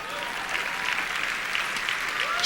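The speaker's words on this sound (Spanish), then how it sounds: "Ahora dele un aplauso al Señor." A church congregation gives a round of applause to the Lord during a sermon, a dense, even wash of clapping that swells slightly toward the end, with faint voices underneath.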